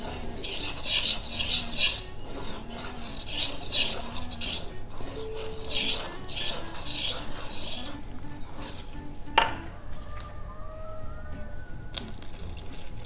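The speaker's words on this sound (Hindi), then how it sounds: "इसे थोड़ा थोड़ा डाल के मिक्स करते जाएंगे ताकि गुठलियाँ ना बने इसमें।" Milk being stirred into a sohan halwa mixture in a pot, with a spoon scraping and clinking against the metal in a steady, busy rhythm and faint liquid sloshing, close by with no talking.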